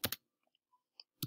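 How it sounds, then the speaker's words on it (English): Typing on a computer keyboard: a few close, crisp key clicks and clacks, irregular and sparse, with soft taps scattered between louder strokes in an otherwise quiet room. "oh my gosh, sorry for my typing"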